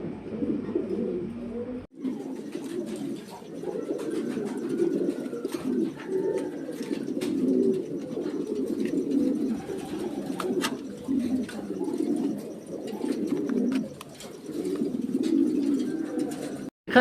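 Lahori red pigeons coo in repeated low, throaty bursts close by, an almost continuous chorus of rolling coos with occasional brief gaps.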